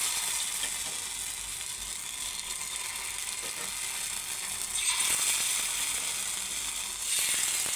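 Rava, maida and rice flour batter dropped into hot oil gives a steady, bright sizzle that swells louder near the middle and again toward the end, with no talk over it.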